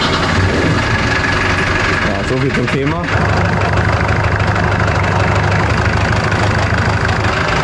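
A boat's inboard engine cranks and starts after repairs, then settles into a loud, steady idle close by, on a lake. Someone talks in German over the engine noise.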